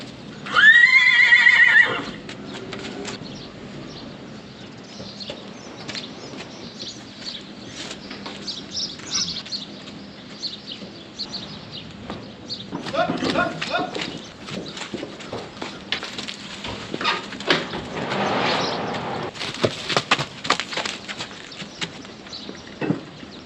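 Horses in a stable beside a newly finished hay barn: one loud, close whinny near the start, then shuffling hooves, soft thumps and rustling with brief louder bursts, and no talk.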